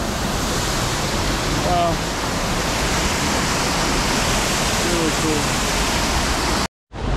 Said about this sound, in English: there's water splashing on my face